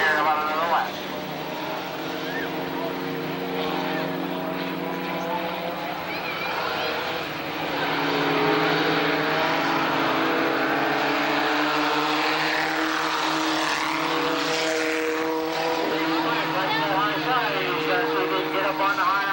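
Race cars roar around the dirt oval at Tonopah Speedway, their engines droning steadily at a distance and swelling louder partway through, under continuous commentary.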